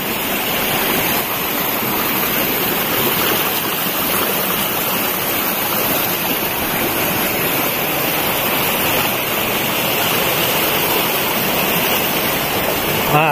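Steady, full rushing of a river crossed on a mountain hiking trail, loud and continuous throughout, like a fast stream or small cascade close by.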